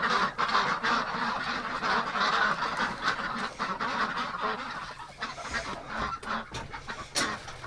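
Backyard ducks in winter call continuously nearby, a dense, overlapping chorus of honking quacks and clucks with no pause.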